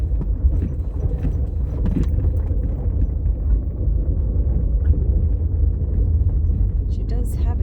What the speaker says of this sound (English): Let me put it in 4-wheel drive here.